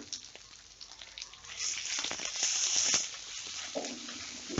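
Small onions added to a pan for drumstick leaf soup and frying, a quiet crackle that grows into a fuller sizzle midway, with a few clinks of stirring toward the end.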